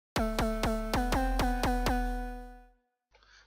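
A bright, buzzy Serum wavetable synth tone, pitched up two octaves and seven semitones, stutters in seven quick clicky pulses, then sustains and fades, with a short burst of noise at the end.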